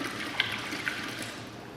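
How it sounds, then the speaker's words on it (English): Carrot juice, a full quart, poured into a pot while making pumpkin pie moonshine: a steady, soft liquid splash runs throughout, with a couple of brief brighter splashes. "we're gonna add 32 ounces or 1 quart of carrot juice"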